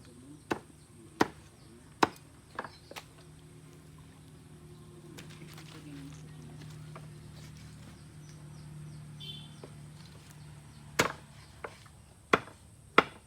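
A butcher chops pork with a knife, giving sharp, separate thwacks: several in quick succession at first, a quieter stretch with low background hum, then a few more firm chops near the end.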